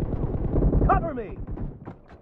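Gunfire from a multiplayer shooter video game, a few quick bursts of shots close and loud, mixed under voice chat and game speech.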